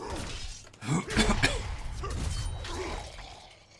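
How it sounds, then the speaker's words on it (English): Someone coughs and clears their throat as if something is stuck in it. The rough bursts come in a short, uneven cluster, close and fairly quiet, with a low rumble behind them. "Apologies about the coughing."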